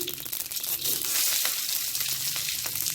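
Loud crackling sizzle of poppy seeds, tomato and curry leaves frying in hot oil, close up, with some stirring and rustling noises mixed in.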